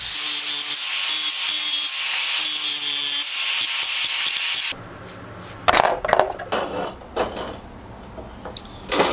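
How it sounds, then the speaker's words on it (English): A grinder works over the cut ends of metal pieces before welding, a harsh abrasive grinding whine for several seconds, then it cuts off and quieter scraping and handling knocks follow up close. "I'm cleaning them up with a grinder just so I have a clean area to weld on."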